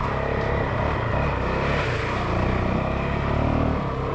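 A Honda CRF450L dual-sport motorcycle rides along a dirt trail, its engine a steady, loud roar blended with rushing wind noise, holding an even drone throughout with no talking.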